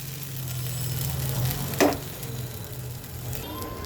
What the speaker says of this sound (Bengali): দেখো চালটা কিন্তু খুব সুন্দর করে আমি ভেজে নেব, আর নাড়তে হবে